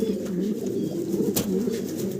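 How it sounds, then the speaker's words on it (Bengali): Black Mundian pigeon cooing close by, a steady run of low, throaty coos with little pause, one brief sharper sound partway through. "এখানে মুন্ডিয়ান কবুতর ব্ল্যাক কালারের"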